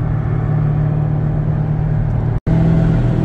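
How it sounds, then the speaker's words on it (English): A classic Chevrolet car's exhaust rumbles steadily and close, with a brief sharp cutout and burp on a downshift near the end before the engine drone resumes. "this thing just had a really good burp. A real good downshift."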